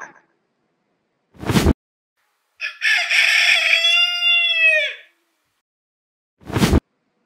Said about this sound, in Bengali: এটা হলো মোরগ, ইংরেজিতে বলে কক।